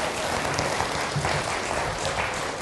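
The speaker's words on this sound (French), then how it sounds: "Ah, mais on l'applaudit" An audience clapping, a loud, dense and continuous wash of hand claps across the short span, with no speech over it.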